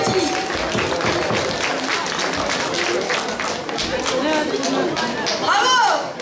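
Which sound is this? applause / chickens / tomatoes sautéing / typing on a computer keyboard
applause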